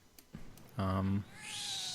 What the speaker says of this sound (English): I had a cat screeching